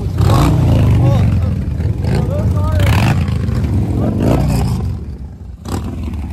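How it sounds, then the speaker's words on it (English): Old motorcycle engines, including a Kawasaki KZ Z1 with a Kerker header, rumble and rev loudly nearby at Laconia Bike Week, with rising and falling tones and clattering bursts, while people talk over them. "nothing sounds quite like an old KZ Z1 with a Kirker header"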